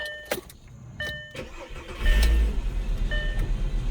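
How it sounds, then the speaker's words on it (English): A 2006 Volkswagen New Beetle with a Mark V engine cranks briefly, then catches and settles into a steady, close engine rumble. "going to pop the hood and fire it up so you can hear it"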